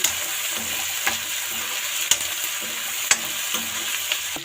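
Chickpeas and potatoes lightly frying in a pan for a tomato-free white chole aloo, a steady close sizzle broken by a few sharp spoon clacks as the mix is stirred.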